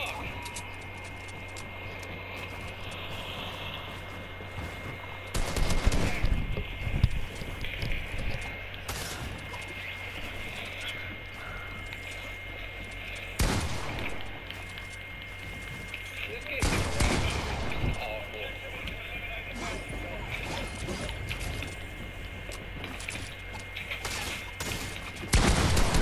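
Gunfire in a video game, with scattered shots and short bursts popping up over steady background game sound. Players talk excitedly over the top.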